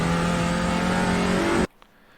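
A TCR touring race car at Sonoma holds a steady, loud engine drone at full throttle with a high whining tone, then cuts off abruptly into near silence.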